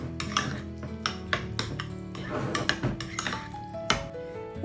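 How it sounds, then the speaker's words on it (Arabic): A spoon scrapes and clinks against a bowl while taco sauce ingredients are stirred together, producing a steady run of clattering metallic knocks and clinks, close and fairly loud. "وهكذا غادي نخلطوا كل شيء بحال هكذا."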